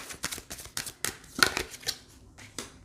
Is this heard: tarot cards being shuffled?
yes